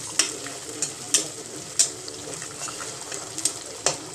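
A mutton biryani mixture sautéing in a pot sizzles quietly while a spoon scrapes and stirs in irregular strokes, with a few sharper knocks against the pot, fairly soft and close.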